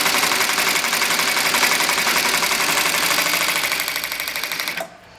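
Atlas AT2150M industrial zigzag sewing machine with a brushless servo motor stitches at speed, giving a fast, even mechanical chatter that runs steadily and then stops abruptly near the end.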